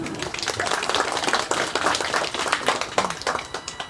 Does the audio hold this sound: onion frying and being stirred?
no